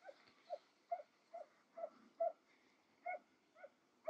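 Hunting dogs of the Barak breed on a wild boar hunt in Amasya, Turkey, give about ten regular whimpering yelps and short barks, moderately distant, with no talk over them.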